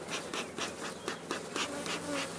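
Honeybees buzzing around an open hive, a dense close hum with pulsing swells as insects pass near, steady and fairly quiet throughout.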